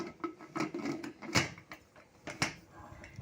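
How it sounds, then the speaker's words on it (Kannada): A pressure cooker lid being fitted and closed while cooking a pot of avarekai saaru, a series of sharp metallic clunks and knocks up close with quieter handling noises between them, no speech. "ಈಗ ನಾನಿಲ್ಲಿ ಕುಕ್ಕರ್ ಲಿಡ್ನ ಕ್ಲೋಸ್ ಮಾಡ್ಕೊತಾ ಇದ್ದೀನಿ."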